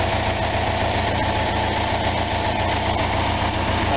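An Onan RV generator engine idles rough, a loud, steady close drone with a low throbbing pulse and faint uneven knocking underneath, with no voices over it.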